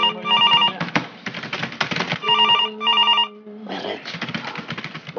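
An office telephone rings in repeated electronic trill bursts, loud and close, with keyboard-like clatter and rustle filling the gaps between rings.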